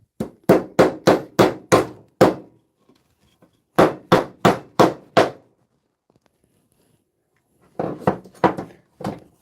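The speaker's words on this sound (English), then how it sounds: "Always make sure you bang on the right side." Klein hammer banging, likely on metal fasteners, in a rapid run of about eight sharp close strikes, then five more, a long pause, and a final burst of quick blows, loud with no talking.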